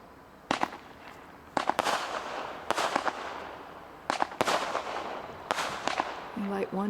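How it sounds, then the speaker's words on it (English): A Sevens Road America multi-shot firework cake fires seven sharp bangs at irregular intervals, each burst crackling briefly over background crowd noise, with a short whistle near the end. "Light 1 fuse and 7 shots. That's 7's Road America."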